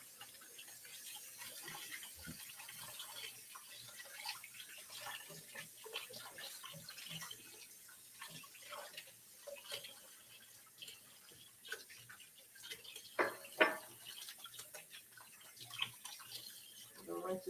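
A tap runs quietly at a kitchen sink while hands are washed after handling pie dough, giving soft splashing and dripping with a few brighter splashes near the end.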